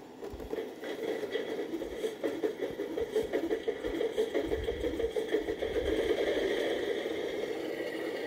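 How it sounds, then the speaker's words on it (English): A RailPro-controlled model switcher locomotive's engine sound starts up and runs, a steady mid-pitched diesel drone with a fast rhythmic chug that builds slightly and stays constant throughout, with no talk. "choose the switcher, and we're going to fire up the engine"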